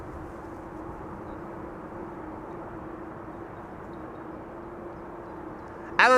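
Nippon Cargo jet taxiing at Amsterdam Schiphol Airport, a steady distant engine whine and rumble holding level throughout, with a brief louder burst of noise at the very end.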